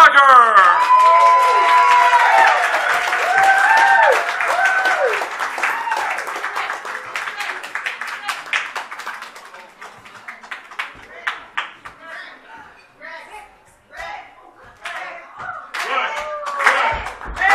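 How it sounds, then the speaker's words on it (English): Audience applause and cheering for Rick Dagger at a Halloween murder-mystery show, loud dense clapping with whoops that thins into scattered claps and shouts, then picks up again briefly. "please, a big round of applause for Rick Dagger"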